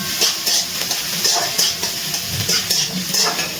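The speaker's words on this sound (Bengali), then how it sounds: "পেঁয়াজটা ভালো করে ভেজে নিচ্ছি" Onions frying in a pan over a low gas flame with a little salt, a soft continuous sizzle broken by repeated scraping and clinks of a spoon stirring against the pan.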